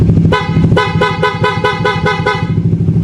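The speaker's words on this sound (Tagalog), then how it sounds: "Bubusina tayo." A Suzuki Raider fuel-injected motorcycle's electric horn blares in rapid, rhythmic bursts, about eight quick honks in a row, loud and up close.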